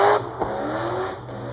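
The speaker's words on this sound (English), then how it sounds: "That car is so loud." A loud drift car engine roars at Orange Show Speedway during a HOTPIT Autofest qualifying round, one strong revving burst fading into a sustained high whine with tire noise.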